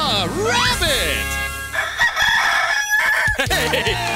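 A cartoon rabbit crows like a rooster in a loud, drawn-out cock-a-doodle-doo imitated by a voice, with sliding warbled notes followed by brief stray cartoon sounds.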